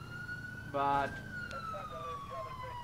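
Siren wailing in the police patrol game LCPDFR (GTA IV), a steady rising tone heard at moderate distance, with a brief spoken word cutting in.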